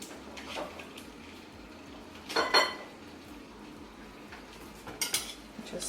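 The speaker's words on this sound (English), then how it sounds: "Now I'm just going to kind of stir it in there." A utensil scrapes and clinks in a pan while stirring a sauce for pork chops, with a couple of brief, close bursts of scraping over a quiet background.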